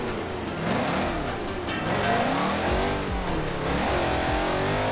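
The engine of a Halo combat vehicle driven in the racing game Forza Horizon 4 revs and drones continuously, its pitch rising and falling as it accelerates, with no talk.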